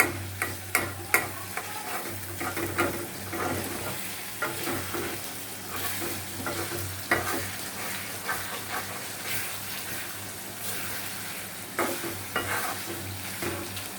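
Pangas fish pieces frying with bitter gourd in a pan, a soft sizzle under frequent sharp clinks and scrapes of a spatula stirring, close and fairly quiet, with a low hum beneath.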